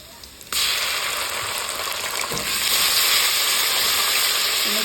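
Garlic and ginger paste dropped into hot oil with golden onions, cumin and fennel for chicken karahi: a sudden loud sizzle bursts in and holds as a steady, bright hiss that swells slightly toward the end.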